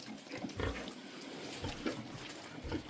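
A sow grunts in short, low bursts, several in a row at an uneven pace, close by with a faint wet background.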